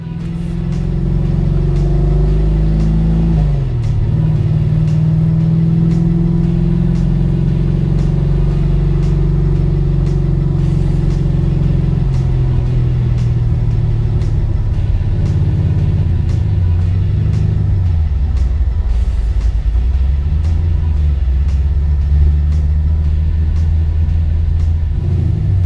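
A Chevy Chevelle cruising city streets in St. Pete, its engine a loud, steady low rumble throughout with pitch rising and falling as it revs and shifts, no voices over it.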